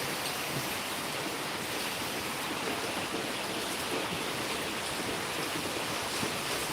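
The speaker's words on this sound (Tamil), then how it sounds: "ஃபோன்லேயே சாரல் அடிக்குது தண்ணி" Rain spray splashing onto a phone held out in a downpour, heard as a steady, loud, close wash of hissing water noise that runs unbroken from start to finish with no voices.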